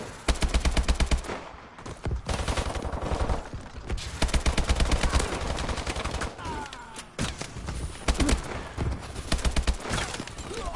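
Rapid automatic gunfire from the cauterizer weapon in a Call of Duty match, loud dense bursts repeating across the whole stretch with brief gaps, layered over game effects.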